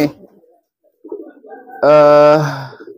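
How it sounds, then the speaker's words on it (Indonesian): A homing pigeon gives a soft, low coo, building into a loud, sustained throaty call near the end. "merpatinya seperti ini giringnya, kurang bagus"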